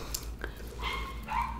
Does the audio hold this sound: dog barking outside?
yes